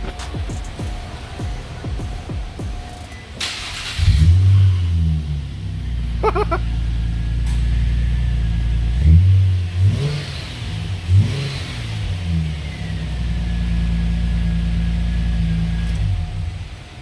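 A 2003 Nissan Maxima engine with exhaust work is revved in several short bursts, each rising to a loud roar and dropping back to idle, close by with no talking.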